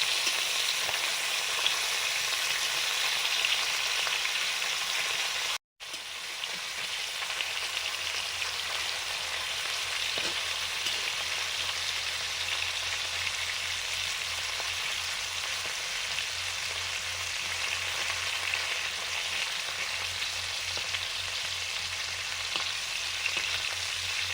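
Fish coated with salt and turmeric frying in hot oil, a dense, steady crackling sizzle close up that runs throughout, broken only by a brief dropout early on, with no talking.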